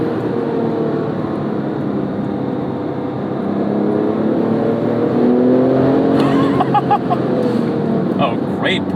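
A 2008 Porsche 911 GT2 (997) accelerating hard on a road, heard from inside the car as a loud, steady engine drone with a rising tone, with someone talking over it.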